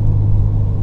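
A Ford Maverick pickup tuned to 330 hp and running on ethanol gives off a deep, steady engine rumble, close and loud, in one brief continuous burst with no voices.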